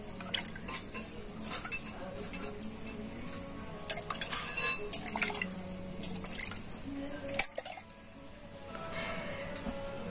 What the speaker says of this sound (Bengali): আর এবার আমি জল দিয়ে ধুয়ে দেখাচ্ছি দেখুন।